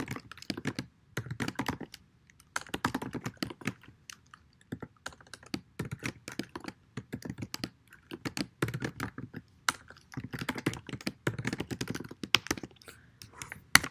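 Steady bursts of typing on a computer keyboard while writing C++ code, quick clustered key taps broken by short pauses, close and fairly quiet with no voices.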